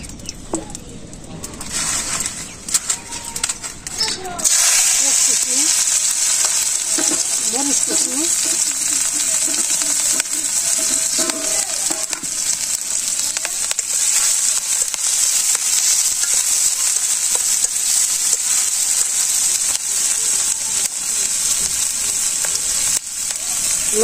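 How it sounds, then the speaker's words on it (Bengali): Pure mustard oil heats in a hot kadai for an onion, chili and egg dish, starting with faint clinks and a cooing pigeon before a loud, steady frying sizzle takes over for the rest. "কড়াইটা গরম হয়ে গেছে, তেলটা দিয়ে দে, খাঁটি সর্ষের তেল,"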